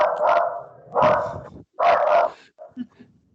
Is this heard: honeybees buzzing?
no